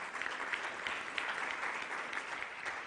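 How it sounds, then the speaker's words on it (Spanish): Steady crowd applause for a conference moderator, many hands clapping evenly at a moderate distance and fairly quiet, sustained without a break. "Un aplauso muy fuerte para nuestro moderador."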